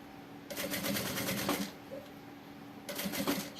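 A sewing machine stitches along the edge of a backpack in two bursts of rapid, even needle chatter, with a pause between runs and a faint hum underneath.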